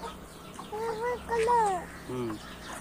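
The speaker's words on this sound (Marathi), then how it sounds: "हे पिल्ले घेऊन चालली कोंबडी तिकडे, हिचे पिल्ले वेगळे" A hen walks with her chicks, giving several short, close clucking calls in irregular bursts while a person talks nearby.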